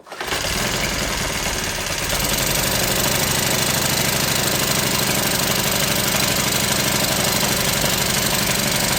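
Troy-Bilt backpack leaf blower engine, a cheap unit with the choke on, catches almost at once and runs steadily at a loud, close, buzzing idle with a rapid knocking rhythm.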